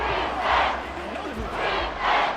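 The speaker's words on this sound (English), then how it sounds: "The Arrowhead crowd in full roar." Stadium crowd at Arrowhead roaring during a Ravens vs Chiefs game in Madden 24, a broad sustained roar swelling in two loud waves with faint game commentary underneath.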